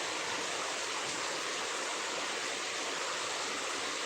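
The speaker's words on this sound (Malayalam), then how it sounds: "മഴേൻ്റെ ഒച്ച കൊണ്ട് ഞാൻ പറയുന്നത് നിങ്ങൾക്ക് കേൾക്കാണ്ടിണ്ടാ?" Heavy rain pours down in a steady, dense wash of noise that stays loud and unbroken throughout, with no voices over it.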